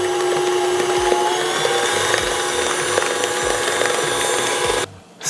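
A stand mixer runs on high, creaming cookie dough for cornflake chocolate chip marshmallow cookies. It gives a steady, loud, close motor whir with faint rattling that cuts off just before the end.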